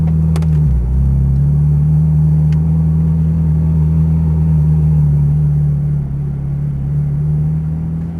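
A Ferrari F430 Scuderia idles and rumbles loudly and close up at a racetrack as it begins to pull away, its steady engine drone easing off slightly near the end.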